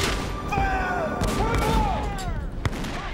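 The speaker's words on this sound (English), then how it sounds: "General Colburn orders his artillery to fire on the Patriot stronghold" Artillery fires on a village church held by rebels during a siege, with booms and crackling gunfire over a dense battle roar, plus a sharp report near the end.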